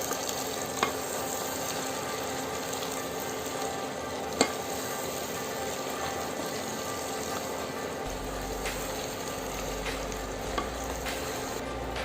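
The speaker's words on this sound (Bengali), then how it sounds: "এখন আমি এটা ভালোভাবে 20 থেকে 25 মিনিট কষায় নিব।" Beef liver and potato chunks sauté in a pan, giving a constant low sizzle and bubbling, with occasional sharp clicks of a utensil scraping and stirring against the pan.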